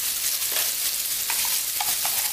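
Onions sautéing in a pan for a Maharashtrian horse gram (kulith) curry, a steady close sizzle with occasional stirring scrapes.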